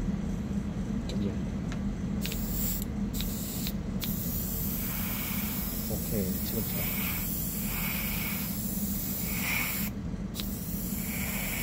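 An airbrush sprays paint onto a custom Nendoroid Obitsu figure at a model-kit class desk, giving a steady continuous hiss that runs throughout, with brief pauses and people talking over it.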